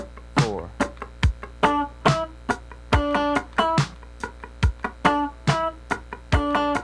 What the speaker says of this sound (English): So we're going to start the first exercise here on the third string playing a D and an E.